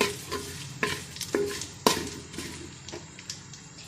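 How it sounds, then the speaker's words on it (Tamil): Pongal ingredients roasting slowly in a pan with a soft sizzle, while a spatula scrapes and taps against the pan in irregular strokes every half second or so, close up with no talking. "ஸ்லோலியே வச்சு கொஞ்ச நேரம் வறுத்துக்கோங்க"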